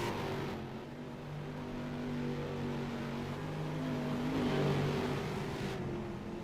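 Stock cars racing at the Milwaukee Mile in a racing sim, with a steady close drone of several engines running nose to tail at high speed, tones shifting slightly as the pack swells louder and fades.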